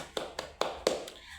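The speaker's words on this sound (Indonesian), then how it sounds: "tepuk tangan untuk kedua kelompok" A classroom of students giving brief applause for two student groups, heard as four or five separate claps or taps, fairly close and moderately loud, with a short pause between each.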